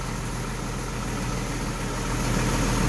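A steady Deutz-Fahr Agrotron 155 tractor engine drone with a low rumble holds at a constant pitch around 1300 rpm, growing slightly louder toward the end, with no voices.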